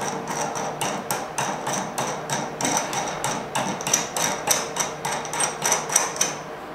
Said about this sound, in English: might have to tap it with a hammer